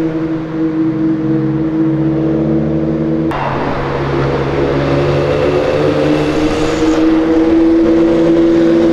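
A Ferrari sports car drives past on a city avenue, its engine a steady loud drone that swells sharply as it comes near and then holds a strong, rising note.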